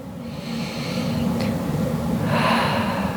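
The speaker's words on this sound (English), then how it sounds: "Exhale out through your mouth." Audible breath exhaled out through the mouth during a yoga stretching session, a steady, fairly loud airy rush that swells near the end, heard close with no talking.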